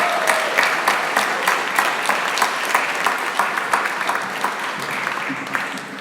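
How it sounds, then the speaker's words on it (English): Audience applause at a hackathon final demos event, a steady dense patter of many hands clapping in a large room, fairly loud and sustained throughout. "One more round of applause for Thales."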